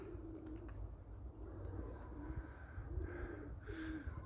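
Pigeons in a flock coo in soft, repeated phrases, some nearer and some farther off, over steady low outdoor rumble with no talk.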